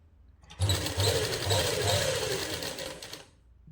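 An electric sewing machine runs a seam on a toddler's winter suit sleeve, a close, steady whirring stitch lasting about three seconds with a rhythmic low thump, starting abruptly and trailing off.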